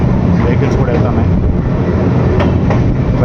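A long express train rolling slowly over a river bridge in Punjab, a steady loud rumble of wheels with faint clatter throughout, heard close from on board.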